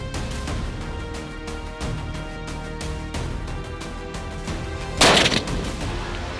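A gunshot cracks once near the end while hunting mountain lions in Sonoma County, a loud broadband blast standing out against a steady, busy background of rhythmic noise.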